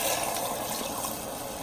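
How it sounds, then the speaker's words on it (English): Water poured into a pot of sautéed onions for butternut squash soup, a steady splashing fill with a sizzling hiss, level from start to finish. "now we're ready to hit it with the water"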